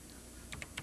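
Key commands are typed on a computer keyboard: a quick burst of four or five close, clacking keystrokes over a faint steady hum, with no voice.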